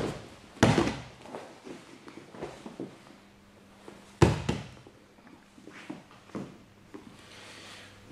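Two heavy, sharp thuds land on a tatami mat several seconds apart, each followed by softer shuffling footsteps and light bumps in a quiet room.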